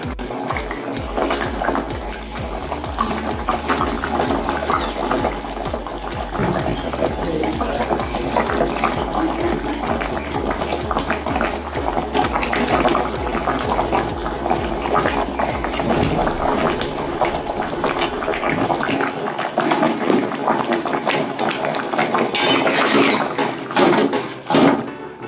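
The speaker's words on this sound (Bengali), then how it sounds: "আমি এবার মাছগুলো দিয়ে দেবো।" Fish being added to a simmering Bengali fish curry (jhol) in a pot gives a steady, close, bubbling and sizzling wash of liquid sound that fades near the end.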